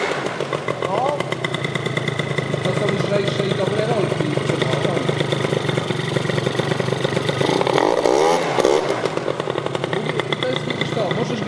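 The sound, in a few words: Italjet Dragster 180 scooter engine being revved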